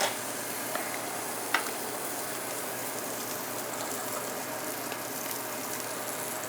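Filet mignon sears in a dry pan with no flour or oil, giving a steady hiss of sizzling with a few small pops and crackles, even and moderately loud throughout with no talk.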